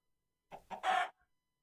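A Minecraft chicken gives a short burst of clucks, three quick rising calls ending on a longer squawk, close and alone against silence.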